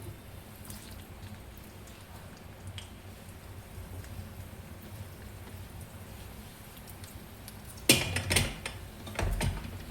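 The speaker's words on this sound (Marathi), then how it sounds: "आता याच तेलामध्ये तो बारीक चिरलेला कांदा टाकायचा आहे." Finely chopped onion fries in oil over low heat, a steady soft rain-like crackle that runs throughout, then a few louder pan clatters near the end.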